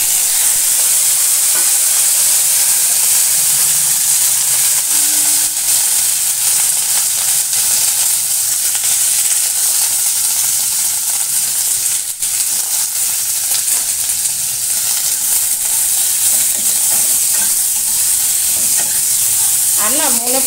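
Mustard seeds sizzle in hot oil in a pan, tempering for a sweet-and-sour tomato chutney; a loud, continuous crackling hiss runs throughout, close by.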